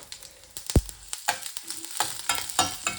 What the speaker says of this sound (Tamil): உள்ளி மிளகு அடித்து போடுவோம். தாளித்து போடுவோம்.